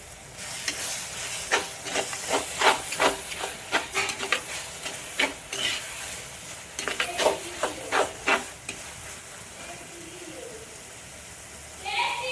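Onions sauté in a pan for a village-style chicken curry (kolambu): quiet background frying hiss broken by a run of sharp scraping and clacking stirring strokes, which fade out near the end.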